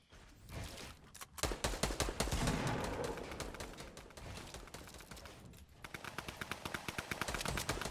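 Rapid gunfire crackles from a nearby fight in the Fortnite Battle Royale video game. Bursts of rattling automatic shots come in quick runs with brief pauses, fairly loud and dense throughout.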